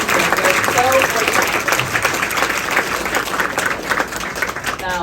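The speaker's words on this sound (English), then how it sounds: "let's give our esteemed panelists a great round of applause" An audience at a women in sports and entertainment conference gives panelists a sustained round of applause, dense steady clapping that fades slightly toward the end, with a voice speaking over it.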